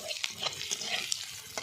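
Onion fried in a pan with ginger garlic paste, stirred with quick scraping strokes over a soft, steady sizzle, heard close and fairly quiet.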